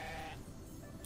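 A sheep bleats in the video game Grow Home: one short, fairly loud bleat at the start, followed by a steady game-ambience hum.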